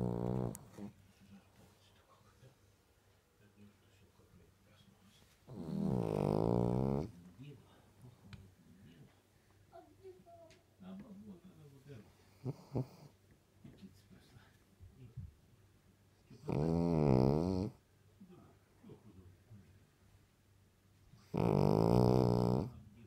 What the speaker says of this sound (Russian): Видишь, как-то храпеть-то собака может.